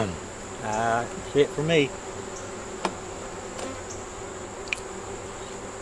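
Honeybees buzzing around hive frames as they are moved to give the queen space to lay: a close, brief buzz with a few passing bees over a low background hum, while a voice speaks briefly.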